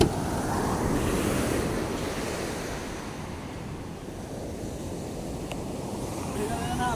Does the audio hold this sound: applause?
no